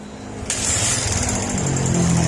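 A Suzuki Raider J 150 motorcycle engine with a part needing replacement idles loudly and steadily, with a rough, rattling mechanical buzz running through it; no one speaks.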